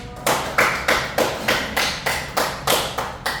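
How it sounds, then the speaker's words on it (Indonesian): A classroom group claps for a student in a steady rhythmic pattern, about ten evenly spaced, sharp, close claps that sound alone and fairly loud. "beri aplaus dulu buat Sita dong"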